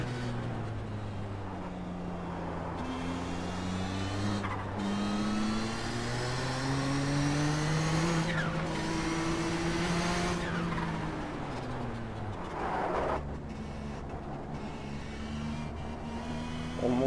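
Race car in the iRacing sim on the Nordschleife, its engine revving up and down through gear changes for a sustained stretch, with brief tire squeal and skidding, loud and continuous with no voices.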